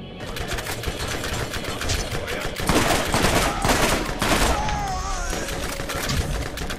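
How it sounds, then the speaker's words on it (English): An Atlas machine gun fires in the Borderlands video game, a dense, continuous rattle of rapid shots that swells loudest mid-clip, with a voice talking underneath. "Atlas machine gun"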